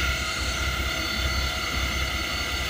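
An old Diamond T truck engine idles while warming up, a steady, fairly loud rumbling drone that continues unbroken.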